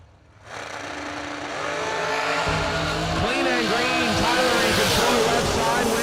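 A short blown dragster at a drag strip fires off on its run, engine roar rising sharply after a quiet start, then a loud pitch-sweeping drone with gear-like swoops; an announcer's voice runs underneath.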